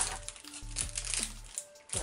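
A plastic cookie package crinkles and crackles up close as it is opened in a home kitchen, in short irregular bursts with quiet gaps.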